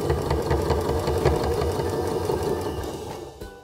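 A sewing machine stitches fabric from an upcycled shirt up into a corner, its steady motor hum and fast mechanical chatter running continuously near and loud, then cutting off abruptly at the end.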